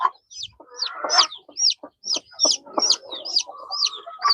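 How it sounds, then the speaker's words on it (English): Day-old chicks on a farm give a run of high, shrill peeping chirps in quick bursts. Lower clucking fowl sounds mix in close by. "These are day 1 chicks."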